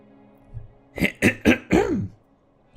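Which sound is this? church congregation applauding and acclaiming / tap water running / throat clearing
throat clearing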